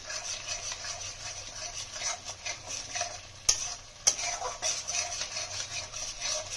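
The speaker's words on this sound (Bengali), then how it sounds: "মশলাটা ভালোভাবে কষিয়ে নিয়ে আলুগুলো দিয়ে দেবো" Spice paste with garam masala stirred and fried in a pan for a Bengali potato dish, a soft steady sizzle with scraping spoon strokes and two sharp clinks partway through.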